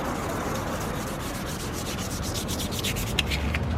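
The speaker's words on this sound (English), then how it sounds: "and sand out imperfections." Sandpaper rubs steadily back and forth over primer on a car's front lip, an Acura RSX, giving a close, continuous scratchy hiss with no talking.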